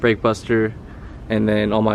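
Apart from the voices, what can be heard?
None of the usual background noises is heard.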